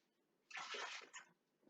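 Water poured into a pot on a home stove for jar canning, a short, soft splashing gush of about half a second that tapers off, quiet and close.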